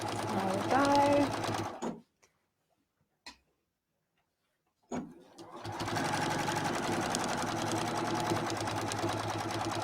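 A domestic sewing machine stitching binding onto a quilt, running in a steady whirring, ticking drone that stops for a few seconds of near silence, then starts again and continues strongly to the end.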